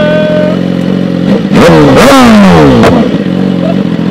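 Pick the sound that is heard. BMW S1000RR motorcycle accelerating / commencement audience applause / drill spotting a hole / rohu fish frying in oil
BMW S1000RR motorcycle accelerating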